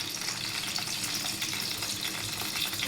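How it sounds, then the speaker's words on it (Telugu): Sliced vegetables deep fry in hot oil, giving a dense, continuous bubbling crackle that stays steady and close throughout, with no voices. "చీలికలుగా కట్ చేసుకొని ఇలాగా ఆయిల్లో డీప్ ఫ్రై చేసుకోవాలి"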